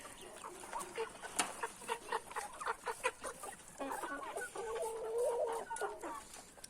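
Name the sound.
chickens clucking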